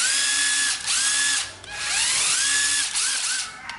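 Cordless battery drill/screwdriver spinning up in short loud bursts, whining and ratcheting as it starts and stops, with speed changes between runs and no talk.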